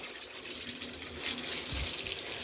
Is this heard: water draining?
yes